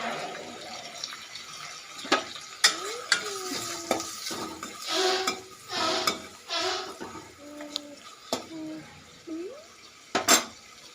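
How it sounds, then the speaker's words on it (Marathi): Asafoetida and spices sizzle in hot oil with tomato in a home kitchen, with intermittent crackling among clattering utensil knocks and stirring, while a voice talks at moments. "तेलाला चांगला फ्राय होऊ देणार आहे"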